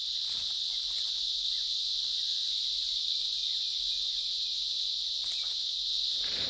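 A loud, continuous high-pitched insect drone fills the air without pause, a dense buzzing chorus of cicadas in an Indian jungle.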